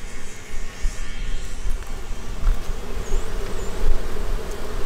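Steady buzzing of many honey bees close by at a hive entrance, a dense humming swarm with no voices.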